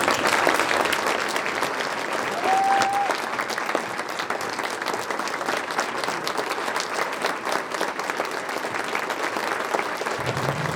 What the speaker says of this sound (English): Please join me in a warm round of applause as she makes her.